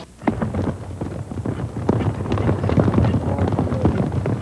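Wild horses on a ranch walk and trot, their hooves clip-clopping in a steady, uneven patter over wind noise outdoors, fairly close.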